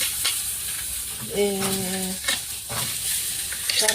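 Herring sizzles and crackles loudly in a hot frying pan as it is flipped, with steady frying noise and a brief tonal squeak from the pan, close up and without talk.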